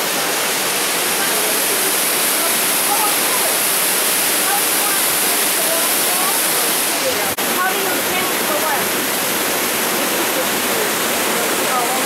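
A steady, loud roar of falling water from Peguche Falls in Ecuador fills the whole clip, a dense broadband rush that never lets up.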